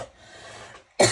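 One sharp, close cough bursts out at the end after a brief quiet breathy stretch from someone suffering from a cough.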